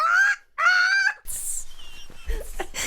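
A person's voice imitates a bird screeching with two loud, high, honking wails, followed by quick, lively talk and laughter.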